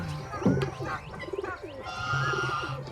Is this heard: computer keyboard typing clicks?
no